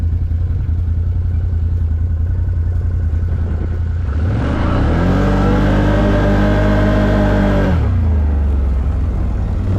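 A 2022 Outlander 850 Max XT ATV in 4x4 revs up loud and close, its engine pitch climbing steadily into a sustained high whine before dropping back to a low rumble.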